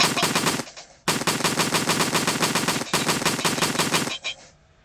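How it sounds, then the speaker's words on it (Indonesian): Rapid bursts of automatic gunfire in a Unity 3D game triggered by left mouse clicks, loud and close, in three long sustained volleys separated by brief pauses, with no talking. "Sudah bisa menampilkan suara tembakan."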